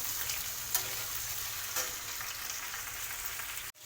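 Bitter gourd with slit green chilli and chopped tomato sizzles in a pan, frying steadily while a spatula stirs with occasional scraping clinks, ending in a brief clatter.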